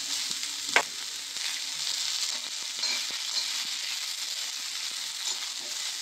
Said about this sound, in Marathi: कांदा चांगला भाजून घ्यायचा, ब्राऊन कलर येईपर्यंत चांगला कांदा असा परतून घ्यायचा